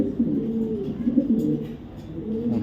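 Close, low cooing of a male racer pigeon, repeated rolling coos in a soft warbling rhythm, with no talking.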